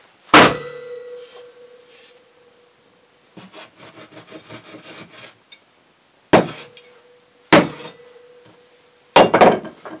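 An axe strikes a hunting trophy in several sharp, ringing blows spaced seconds apart, each leaving a short metallic tone, with a stretch of rapid scraping, sawing-like strokes in between.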